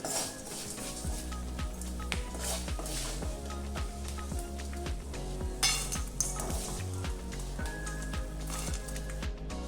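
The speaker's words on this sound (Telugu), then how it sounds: "తిరిగి స్టవ్ ఆన్ చేసి ప్యాన్లోకి 1 టేబుల్ స్పూన్ ఆయిల్ వేసి ఆయిల్ కాగిన తర్వాత ఇందులోకి పల్లీలు అలాగే ఎండు కొబ్బరి వేసి వేపుకోవాలి" Peanuts and dried coconut frying in a tablespoon of hot oil in a pan, a steady soft sizzle with faint clinks and scraping of a spoon stirring, no voices over it.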